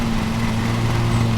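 A steady, droning lawn mower engine hum with a constant low tone while cutting grass in a lawn-mowing simulator game, loud and continuous with no talk.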